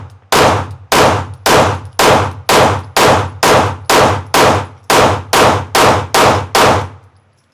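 Fourteen loud Glock pistol shots fired in a steady rapid string with a changed recoil spring, each a sharp crack with a short ringing decay, close and alone with no talking.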